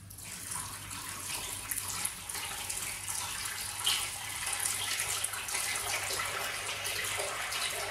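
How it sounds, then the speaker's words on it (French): Room-temperature water pours steadily into a sourdough starter for bread dough, a close continuous splashing stream over a low hum that lasts about eight seconds. "Je vais mettre approximativement 100 g d'eau."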